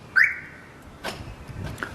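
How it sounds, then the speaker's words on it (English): A Compustar one-way AM car alarm system arming on a 1994 Honda Accord gives a short, loud single chirp, followed by a few faint clicks and thumps. "Here we have the Compustar one-way AM alarm system installed on a 1994 Honda Accord."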